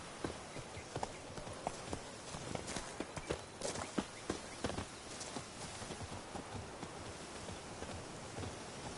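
Roach the horse's hooves clip-clop in The Witcher 3, an uneven run of sharp strikes on hard ground that moves off, with a faint patter like rain behind it.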